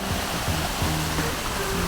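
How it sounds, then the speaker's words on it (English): Munduk Waterfall in Bali roars loud and close, a dense steady rush of falling water filling the whole moment with no voices. "We're at Munduk Waterfall now."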